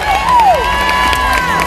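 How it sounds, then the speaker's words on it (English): A large arena crowd cheers loudly and steadily for sledge hockey players, with whoops and shouts rising over a continuous wall of voices. "the sledge hockey people are getting a very big cheer"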